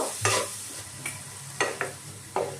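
A spatula stirs capsicum and onion frying in a pan, giving several sharp scraping strokes spaced irregularly over a soft, continuous sizzle, close and clear.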